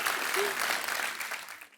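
Studio audience applause on a Hindi television comedy talk show, a dense steady wash of clapping from a large crowd that holds loud throughout and begins to fade at the very end.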